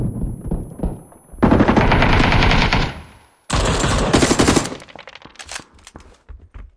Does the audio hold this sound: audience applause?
no